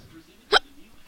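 A single sharp human hiccup, a short close-up burst in the middle of quiet background noise during a wrestling game session.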